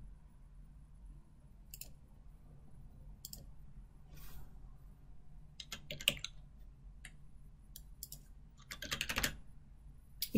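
Quiet typing on a computer keyboard while searching order items, soft scattered key clicks coming in short bursts with a denser flurry near the end, close and faint without voices.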